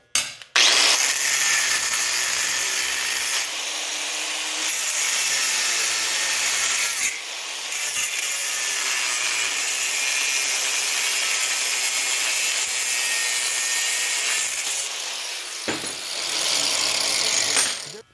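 Hand saw cutting through a piece of wood to make a tool handle, a steady rasping stroke rhythm running continuously and close up, with a few brief pauses between passes.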